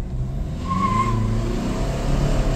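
A 2016 diesel Jeep Renegade pulls away on a test drive, its engine rising steadily as it accelerates, with a faint short squeal over the continuous drone.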